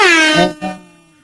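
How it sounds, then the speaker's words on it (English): A loud, blaring air horn blast sounds up close, its pitch sliding slightly before a short second burst trails off. "Let's give him let's give him some air horns, man."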